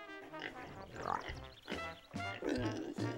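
Cartoonish pigs grunt and oink in an Ed Edd n Eddy PlayStation 2 game, several close, snorting bursts in quick succession with short pauses between them.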